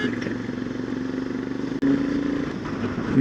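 Royal Enfield Himalayan motorcycle engine droning steadily while riding mountain curves beside a river and rock faces, loud and close, a brief dip midway before the rumble resumes and swells toward the end.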